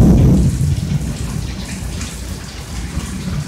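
Steady heavy rain during a lightning storm, loud and close, with a low rumble of thunder at the start that fades under the continuous downpour.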